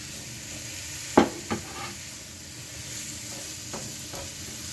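Apples being stirred in melted butter and sugar in a pan, with a couple of distinct scraping clicks from the spoon early on and a soft, steady background hiss between them.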